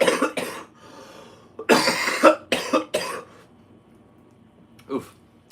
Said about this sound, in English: I feel a strong cough coming on.